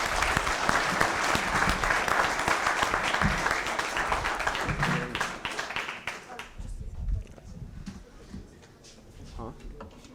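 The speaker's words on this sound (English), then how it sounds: "round of applause" At a sports management sustainable development goals competition, an audience applauds after a presentation, loud clapping that thins out about two-thirds through, leaving scattered claps, some knocks and a few voices talking.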